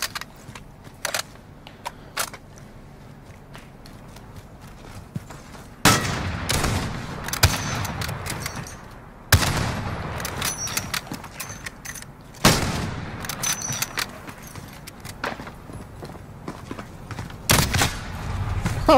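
Bursts of gunfire in a Call of Duty custom match come in sharp, loud volleys, with several clusters of rapid shots separated by quieter stretches of ambient game sound.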